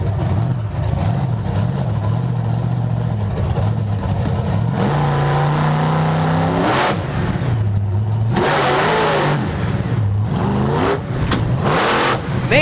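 A monster truck engine revs loud and close during a wheelie at a Monster Truck Nationals event in DuQuoin, Illinois, its pitch rising and falling in sustained surges with roaring bursts throughout.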